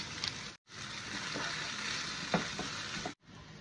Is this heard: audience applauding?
no